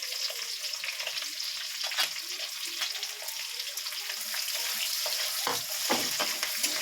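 Onion dropped into hot oil for chili chicken, giving a close, busy crackling sizzle that runs throughout, with scattered spoon scrapes and stirring strokes, and no voices over it.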